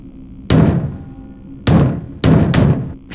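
Loud, heavy thuds of someone banging on a wooden door in the video game Conker's Bad Fur Day, coming in three bursts: a single blow, a pause, then two quick blows, with no voices over them.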